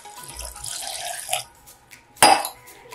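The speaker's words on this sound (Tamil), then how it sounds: "இதில் வந்து தண்ணி சேர்த்துக்கிறேன்" Water poured into a large blender jar holding fruit, a running, splashing pour followed by a sharp glassy clink near the end.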